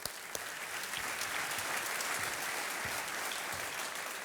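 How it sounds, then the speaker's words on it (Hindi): A studio audience at a television quiz show applauds in a steady, even wash of clapping that lasts throughout, fairly faint in level and with no voices over it. "तालियां बजती रहे"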